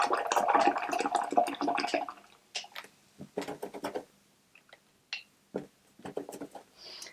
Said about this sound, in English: rinse your brush out